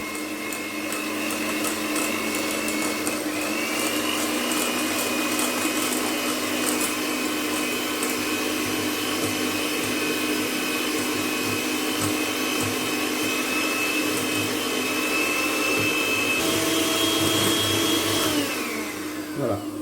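An electric mixer beating two eggs with 150 g of sugar, whirring steadily and loudly with a tone that shifts in pitch partway through and again near the end before it stops.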